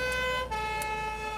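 Ambulance siren wailing steadily and loudly on a vacation-season emergency call, holding a sustained tone throughout with no other sounds over it.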